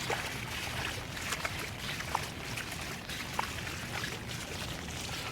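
Floodwater from an April 2016 flood flows in a current, a faint, steady, broadband rush of moving water with a few small splashy ticks.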